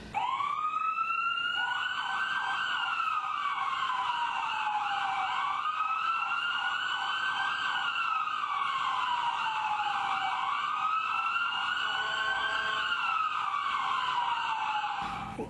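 A Bella Vista, Arkansas Fire Department ambulance siren on an emergency run wails in steady rising and falling sweeps, loud and continuous throughout, with no talking.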